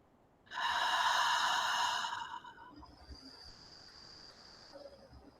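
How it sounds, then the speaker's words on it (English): A long, slow breath exhaled steadily during a guided breathing exercise in a tea meditation, close and breathy for about a second and a half before fading into quiet room tone with a faint high tone. "Exhale for 8."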